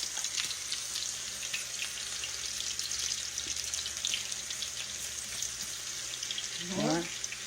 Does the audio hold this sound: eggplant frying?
yes